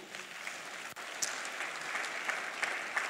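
A church audience claps steadily for about three seconds, a dense, moderately quiet patter of many hands with a few sharper individual claps.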